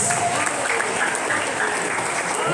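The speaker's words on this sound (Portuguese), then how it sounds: "Você pode aplaudir a esse maravilhoso Deus." A church congregation at a prayer service claps together in praise, a continuous, even wash of applause filling the room at steady volume with no break.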